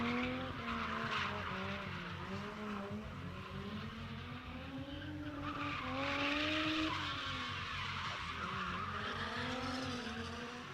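A BMW drift car sliding around a drift pit, tires squealing in long wavering howls over a roaring engine, loud and continuous for the whole stretch.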